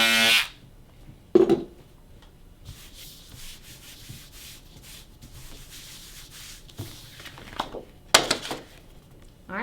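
A ScanNCut cutting machine slices scraps of fabric with a thin buzzing, rubbing whir and scraping strokes, punctuated by a few sharper louder bursts, close up in a quiet room.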